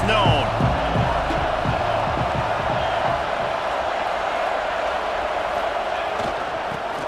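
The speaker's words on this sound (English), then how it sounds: "This crowd ready to make its presence known." Stadium crowd in a football video game roars as a steady, dense wash of cheering and noise, loud and continuous throughout with no clear breaks.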